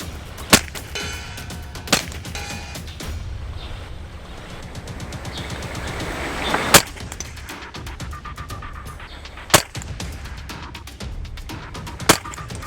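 Rifle fired through an ED-AR 1-6x24 IR FFP scope at an outdoor range with targets out to 170 metres: sharp single shots cracking at irregular intervals, a handful in all, over quiet background.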